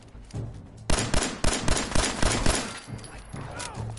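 Gunfire in Fallout 4: a rapid volley of loud, close shots in an uneven burst over game ambience, trailing into quieter reports.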